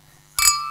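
Drinking glasses meet in a toast with one bright, sharp clink that rings on and fades slowly, with no voices over it.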